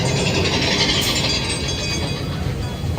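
A Disneyland ride train rolls along its track, a steady loud mechanical rumble with faint clanking and ratcheting throughout, no talk over it.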